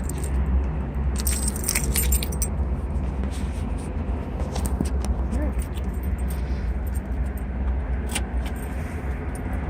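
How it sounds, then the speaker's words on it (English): Key for a 1964½ Ford Mustang convertible jingling with bright metallic clinks in irregular bursts, close up over a steady low rumble. "You even have a Mustang key from Ford."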